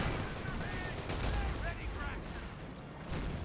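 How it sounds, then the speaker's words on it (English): Sector artillery shelling in a Company of Heroes 1 match between British and Panzer Elite forces: dense, continuous rumbling blasts and crackling gunfire throughout, with a commentator's voice running underneath. "Massive hit there from sector artillery, so he's gone for scorched earth."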